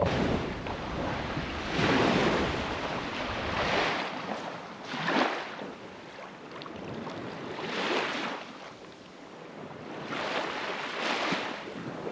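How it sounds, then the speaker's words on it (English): Ocean waves wash repeatedly onto a remote crocodile-country coastline, rising and receding in broad surges every few seconds, with wind buffeting the microphone and no talk. "Nah, waves hitting."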